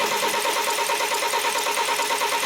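A BMW X3 engine with a no-start fault cranks steadily, the starter's rhythmic churning loud and close for the whole moment without firing.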